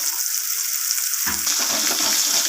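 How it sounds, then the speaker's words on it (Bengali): Loud, continuous frying sizzle of rohu fish pieces in a pan, growing busier with crackling bubbles partway through. "এরপর আমি মাছগুলোকে ভালোভাবে লাল লাল করে 2 পিস ভালোভাবে ভেজে নেব।"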